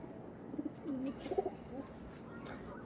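Old pigeons kept for tournament flying give a few soft, low coos, quiet and fairly close, in short bursts over faint background hiss.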